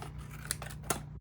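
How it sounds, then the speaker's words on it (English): Two crisp scissor snips cut through material at close range, each a short sharp click over a steady low hum, with no talking. "So cut it with scissors."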